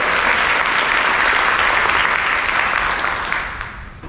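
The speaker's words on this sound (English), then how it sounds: "So please give yourselves a round of applause." A keynote audience breaks into loud, dense applause that holds steady for about three seconds, then fades away toward the end.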